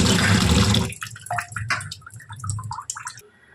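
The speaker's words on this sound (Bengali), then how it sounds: "টক ডাল বানাবার জন্য প্রথমে মুসুরির ডালটাকে ধুয়ে নেব ভালো করে।" Red lentils (masoor dal) being washed in water: a loud splashing rush at first, then lighter sloshing and dripping trickles of water around the grains, close by with no talk.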